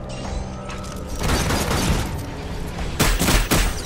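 Dense, chaotic gunfire and booming impacts during a firefight against giant spiders in the VR shooter Farpoint, loud and continuous with heavier bursts near the end.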